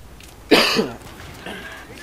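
A single sharp cough bursts out near the microphone, followed a moment later by a fainter throaty sound against quiet room tone.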